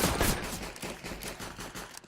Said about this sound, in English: Be careful about shooting too fast.